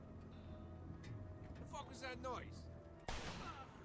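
A single gunshot in the Mafia 2 video game cracks sharply near the end, following a stretch of game ambience with a voice talking over it.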